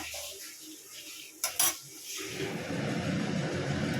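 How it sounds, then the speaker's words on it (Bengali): Potato and pumpkin fritters put back into a hot pan, opening with a few sharp metal utensil clinks before a steady close sizzle of frying takes over and holds. "এই বড়াগুলো তুলে নিয়েছি আবার এগুলো দিয়ে দিলাম।"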